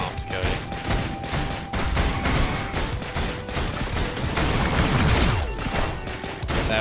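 Bombs going off in the video game Risk of Rain Returns, dense rapid blasts overlapping in a continuous barrage, loud and busy, with little talk over them.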